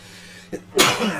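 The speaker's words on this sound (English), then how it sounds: "I'm gonna sneeze." A single sharp sneeze bursts out after a brief intake of breath, loud and close, followed by a short trailing exhale.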